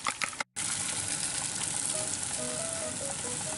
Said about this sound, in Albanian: i hedhim në tigan